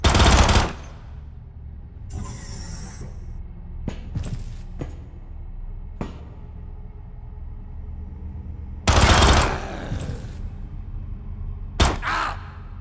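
Gunfire in the video game Quasimorphosis: loud bursts of automatic fire at the start and around nine seconds, with several sharp single shots between them and near the end.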